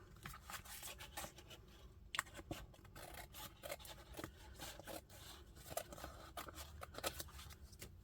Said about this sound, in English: You have to then cut them all up one by one